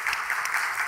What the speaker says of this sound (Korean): 우리 감사하는 마음으로 한번 박수 한번 하십시다.